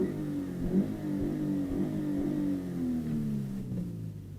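A 2020 Subaru BRZ drives along with a fairly quiet, low engine drone that rises and falls slightly with throttle, heard from inside the car with no talk.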